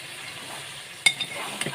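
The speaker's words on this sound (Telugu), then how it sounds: "చికెన్ ఫ్రై అయితే మంచిగా ఫ్రై అవుతుంది" Chicken pieces frying in a pan, a soft continuous sizzle with a brief scrape or stir partway through, close and fairly quiet with no talking.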